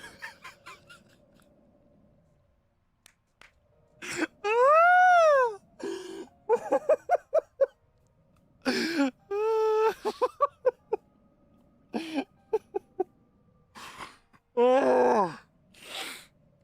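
A voice imitates Chewbacca's growl with a string of loud, warbling groans and honking yelps, some drawn out and some in short choppy bursts, separated by silent gaps.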